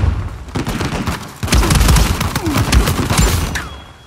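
Rapid gunfire from a gun in the video game Uncharted 4 survival mode, loud close bursts of repeated shots running nearly throughout with brief pauses.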